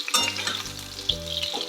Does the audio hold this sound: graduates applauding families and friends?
no